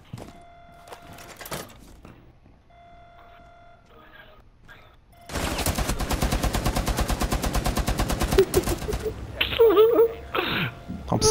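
Turret gunfire in a video game, a long rapid-fire mechanical burst starting abruptly after a quiet stretch of faint game sounds and beeps, loud and steady, with voices and clanking toward the end.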